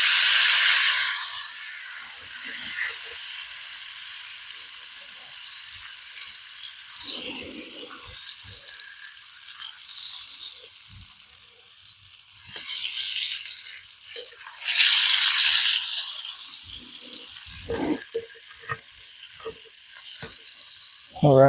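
Shellcracker fish cooking over an outdoor campfire gives a hissing sizzle that swells and fades, loud at the start and again mid-way, with a few faint clicks and knocks between bursts.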